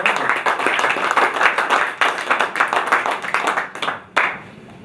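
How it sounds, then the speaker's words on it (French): An audience at the Lions national literature prize ceremony applauds the winner, a dense sustained round of clapping from many hands that fades near the end and then briefly swells again. "On peut l'applaudir"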